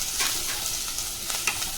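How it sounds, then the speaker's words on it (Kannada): Capsicum and gobi manchurian (cauliflower) frying in a pan, a continuous close sizzle with soft scraping stirs breaking through it, and no voices. "ಕ್ಯಾಪ್ಸಿಕಮ್ ಸ್ವಲ್ಪ ಸೇರಿಸ್ಕೊತಾ ಇದ್ದೀನಿ. ಇದು ಕೂಡ ಸ್ವಲ್ಪ ಫ್ರೈ ಆಗಲಿ."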